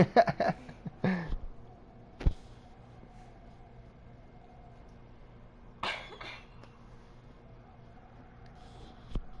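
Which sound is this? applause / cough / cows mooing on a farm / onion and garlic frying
cough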